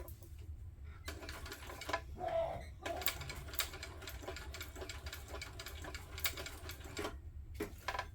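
A sewing machine stitches a crossbody sling bag in quick rattling bursts, pausing briefly between runs and starting up again, close and fairly quiet.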